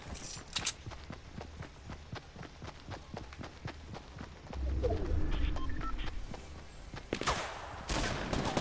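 Birds cooing amid the gunfire of the video game Fortnite, soft dove-like coos over rapid, steady shots and footsteps, with louder bursts near the end.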